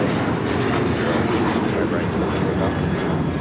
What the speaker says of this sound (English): This is Alaska Airlines 1127 taking off to Portland on the 737-900ER